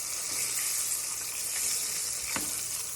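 Chicken strips fry in hot oil, giving a steady, close, loud sizzle with a few crackling pops and no talk.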